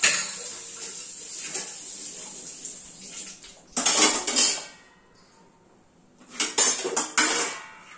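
A spoon scrapes and stirs a thick jaggery filling in a metal pot for purnam burelu, in two short bursts of close metallic scraping separated by quiet stretches.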